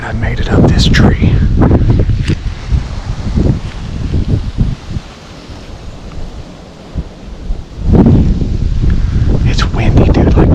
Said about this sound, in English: It's windy, dude, like 20 mile an hour.